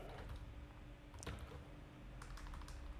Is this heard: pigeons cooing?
no